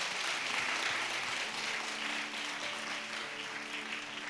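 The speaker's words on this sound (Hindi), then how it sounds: "ताली बजाएंगे।" A congregation at a fasting prayer service applauds with steady, sustained clapping at moderate volume, with a faint tonal hum underneath.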